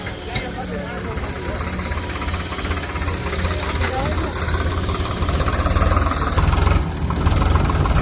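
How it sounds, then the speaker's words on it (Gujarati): A loaded tractor pulls away at a house construction site, its engine a steady, loud low rumble with a knocking chug that builds slightly toward the end, with voices talking over it throughout. "ટેક્ટરનું ટ્રેક્ટર ભરી લીધું છે ને જાય છે ટ્રેક્ટર"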